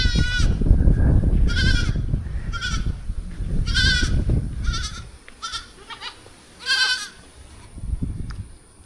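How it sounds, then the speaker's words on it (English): A goat bleats several times on a quiet small island in southern Japan, loud wavering cries close by, with low rumbling handling noise early on and a pause before the last few calls. "I hear a goat."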